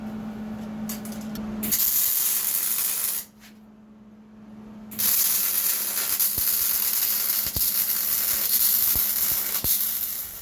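Tack welds on a broken log splitter's I-beam, two sustained bursts of loud crackling hiss with a quieter gap between them and a few sharp ticks, heard close up.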